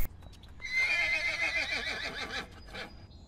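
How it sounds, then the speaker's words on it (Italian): Wild Giara horses in Sardinia give a loud, close, drawn-out whinny that wavers over about two seconds, with soft hoof clip-clops and rustling in the open countryside. "In questa oasi vivono allo stato brado i cavalli della Giara."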